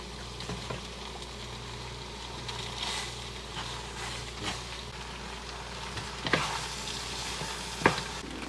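Egg and Parmesan mixture being stirred into oyster carbonara in a pan, with a steady soft sizzle under light scraping and a few sharper clinks of the utensil against the pan.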